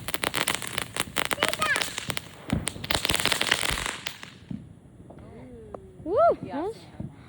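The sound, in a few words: fireworks and sparklers being lit and going off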